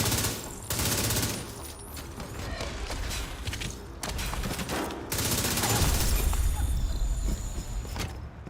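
Sustained gunfire in The Division 2, a dense rattle of rapid shots running almost without pause, with brief breaks and mechanical clicks, loud and close, under a steady noisy combat bed.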